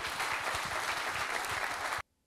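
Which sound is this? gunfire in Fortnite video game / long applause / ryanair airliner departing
long applause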